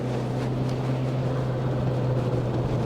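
A Peugeot 205 GTI engine drones steadily from inside the car as it drives, a constant low hum with a strong tonal band that holds without a clear rev rise, loud and continuous with no talking.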